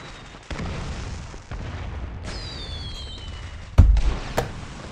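A huge firecracker explodes in the Arknights video game, a sudden loud boom with a rumbling tail that fades out, followed a moment later by a smaller secondary burst, over steady game background noise.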